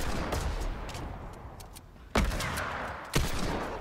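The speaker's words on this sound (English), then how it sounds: "Yes, another deagle shot." Desert Eagle shots in Fortnite: two sharp, loud single gunshots about a second apart, cutting through a background of game noise.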